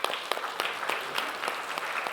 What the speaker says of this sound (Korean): 그 주님께 영광과 찬양의 박수를 돌려보내겠습니다